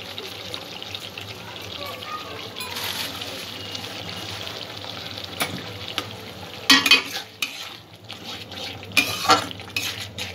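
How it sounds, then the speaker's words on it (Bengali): Spoon stirring and mixing vegetable korma in a pan, with soft scraping and gentle sizzling over a steady low hum, growing into sharper scrapes and clinks toward the end. "ভালো করে সব কিছু মিক্স করে নেব।"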